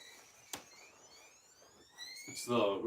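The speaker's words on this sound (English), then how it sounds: "It's a radar behind you. Radar thing." A ghost-hunting radar device gives off rising electronic tones in overlapping sweeps, moderately loud and nearby, along with a sharp knock and people talking toward the end.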